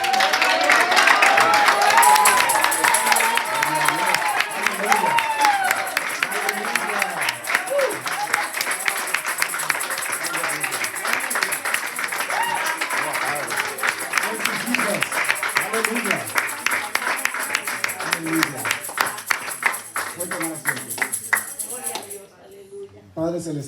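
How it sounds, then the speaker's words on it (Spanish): A church congregation standing for a long burst of loud clapping mixed with shouts and cheers, sustained throughout with voices rising over the applause. "denle un aplauso al Señor y denle un grito de victoria."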